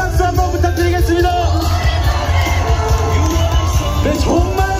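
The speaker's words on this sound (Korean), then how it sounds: "큰 박수 한번 부탁드리겠습니다" A large crowd at an outdoor candlelight street rally cheers, whoops and shouts continuously over a steady, loud murmur as marchers arrive, with no break in the noise.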